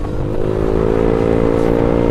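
A Honda Beat FI scooter fitted with Daytona clutch pads revs hard close by, a sustained buzzing engine note with some mechanical clatter over the full two seconds.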